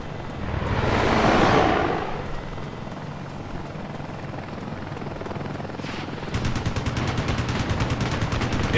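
Heavy gunfire in the Ace Combat video game, a dense run of rapid machine-gun bursts rising over a steady rotor-like helicopter drone, with a loud swell of engine noise early and sharper rattling fire toward the end.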